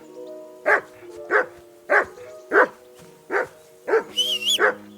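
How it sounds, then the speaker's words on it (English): Dog in Kingdom Come Deliverance II barking repeatedly, six or seven sharp, evenly spaced barks close by, with a brief high whistle-like tone near the end. "Whistle at that mutt of yours to stop barking!"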